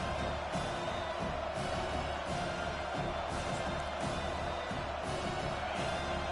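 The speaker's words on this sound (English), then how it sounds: "Here comes this home crowd as the defense tries to get off the field on third down." In a college football video game, TCU against BYU, a home stadium crowd roars continuously, a dense steady wash of cheering with no break, heard without commentary.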